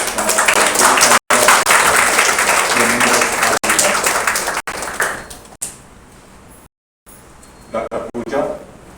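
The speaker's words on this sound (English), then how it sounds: "I think we need to give a big applause." Audience applause at the Shakuntala Shakthi Awards 2023 ceremony, a loud, dense wash of clapping for several seconds that breaks off abruptly, followed by quieter room sound with brief speech.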